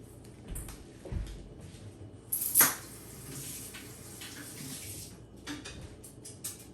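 Tap water running onto a Yeti Rambler one-gallon jug, a soft steady wash with a few hollow knocks and a sharp clunk as ice pops loose.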